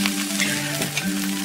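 Beef hooves being stir-fried with spices in a wok give off a steady, close sizzle and crackle that holds evenly throughout, with no voices.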